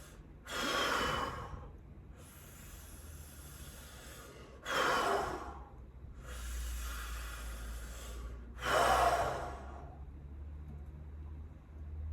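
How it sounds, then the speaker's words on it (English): Three slow cycles of deep breathing in and exhaling through the mouth, each outward breath a loud airy rush, with quieter inhalations in between over a low steady background hum. "So breathing in cool, off gassing heat. Do this 3 times."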